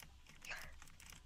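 Rapid computer keyboard typing during a KitPVP Minecraft session, a steady run of close, faint key clicks with no voices over it.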